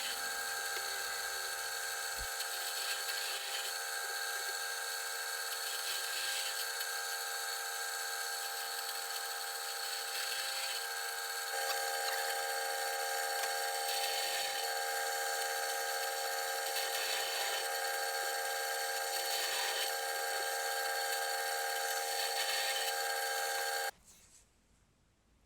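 A drill press running steadily on a pilot-hole job in CLS timber, a continuous high motor whine with several faint dips as the bit bores the wood, then cutting off abruptly near the end.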